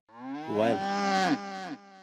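A buffalo sound effect plays in a Hindi comedy series: a single deep, drawn-out moo lasting about two seconds, loud and close, with no talking over it.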